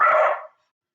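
A single loud dog bark nearby that cuts off sharply into silence.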